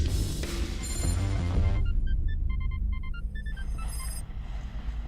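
An electronic cell phone ringtone chirps out a rapid melodic pattern of bright beeping tones over a loud, rumbling background, with a dense musical swell first before the ringing notes stand out.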